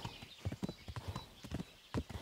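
Horse hooves clip-clop in the medieval open-world game Kingdom Come: Deliverance, a steady run of close, distinct thuds at a brisk walking rhythm with no voices over them.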